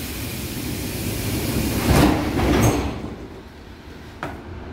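Metro train doors on a TEM IVA M3 line slide shut with a broad rushing hiss and a brief thud, followed by a steady low rumble as the train starts moving, all heard up close from inside the car.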